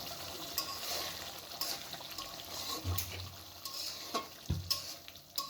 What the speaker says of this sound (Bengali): এরপর ১ মিনিট নাড়াচাড়া করে নামিয়ে ফেলছি